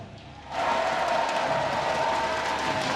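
An esports arena crowd bursts into loud cheering and applause after a brief quieter lead-in, and the roar holds steady to the end.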